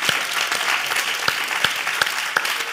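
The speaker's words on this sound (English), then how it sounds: "You could applaud if you like." A festival audience at a documentary talk applauds, a dense burst of clapping with a few sharper individual claps standing out, sustained for a few seconds.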